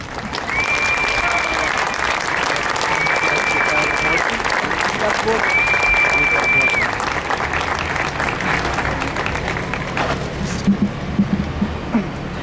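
Sustained audience applause fills the room to welcome a speaker at a religious freedom event in San Francisco, steady and dense for about ten seconds before tapering off into scattered claps and murmurs.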